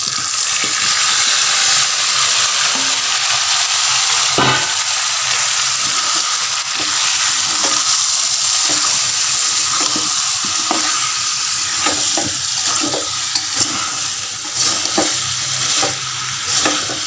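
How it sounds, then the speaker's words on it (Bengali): Marinated meat fries on an induction cooker, a steady loud sizzle filling the whole stretch, broken by frequent sharp clicks and scrapes of stirring against the pan; no one speaks. "ইন্ডাকশানে রান্নাটা বসালাম"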